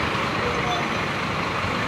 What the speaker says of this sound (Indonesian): Kayak itu busnya.